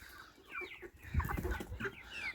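Chickens of a large, calm, friendly breed cluck and murmur close by, with several overlapping short calls and no voices.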